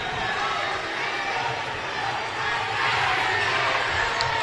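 Spectators at a girls' high school state semifinal basketball game in a gym fill the space with a constant, moderately loud crowd murmur. A voice talks over the crowd throughout.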